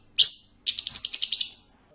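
A single sharp bird chirp followed by a rapid run of about a dozen bright tweets, close and clear against quiet.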